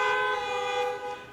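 Several car horns honk together in a sustained, bright blare that holds steady for over a second, loud and close, at an outdoor drive-in style high school graduation ceremony.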